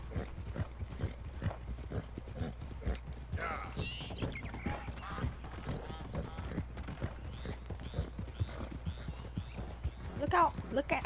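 Rhythmic horse hoofbeats in the video game Red Dead Redemption 2 clop steadily throughout at a galloping pace, with speech over them and a brief whinny-like sound near the end.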